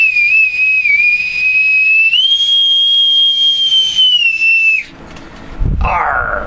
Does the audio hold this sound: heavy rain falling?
no